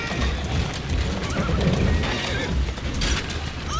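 A horse-drawn carriage rolls steadily through the streets of Victorian London in Assassin's Creed Syndicate, hooves clip-clopping and a horse whinnying over continuous wheel and mechanism rumble, loud and close with no voices.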